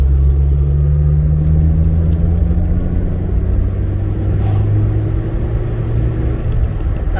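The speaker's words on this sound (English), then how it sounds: "We're just going to do a little bit of third gear acceleration here." A Vauxhall Nova accelerates in third gear, its engine droning loud and steady from inside the cabin, with pitch climbing gradually throughout and no talk over it.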